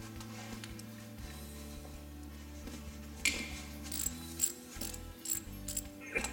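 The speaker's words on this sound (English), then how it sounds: "Okay, now he's got the housing bolts loose." Ratchet loosening the housing bolts on an ATV starter motor in a workshop, heard as rapid clicking pawl ratchets, followed by sharper intermittent metallic clacks and taps toward the end, close by with no talking.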